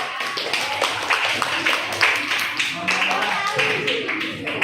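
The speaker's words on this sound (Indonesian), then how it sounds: "Tepuk tangan dulu." Classroom audience clapping hands during an Indonesian teacher-training session at UIN Alauddin Makassar, a scattered, moderately loud patter of claps running steadily throughout with voices murmuring underneath.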